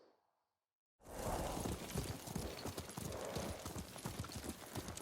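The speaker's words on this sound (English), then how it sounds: "What a good horse." Horse hooves clip-clop at a steady walking pace in Ghost of Tsushima, loud and close, starting abruptly after a second of near silence and continuing without talk.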